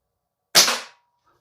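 An ASG Action Army T-11 spring-powered bolt-action airsoft rifle fires a single sharp, loud crack up close. It decays quickly into a faint short ring.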